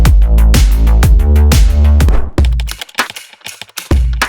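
Layered bass with an 808 under a pumping plugin, deep booming notes that swell and duck in a steady rhythm, loud and up front, turning into sparser, choppier hits in the second half.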